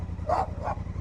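A dog gives two short barks at a motorcycle passing along a road in Portugal, with a low engine drone running underneath.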